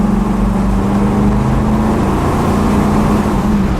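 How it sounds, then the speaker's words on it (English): A 1958 Chevrolet Impala two-door hardtop's 348 V8 running loud and close, holding a steady, heavy engine drone with a constant low hum throughout and no talk. "So Dennis, we've got the 348. Let's give a little sound to it"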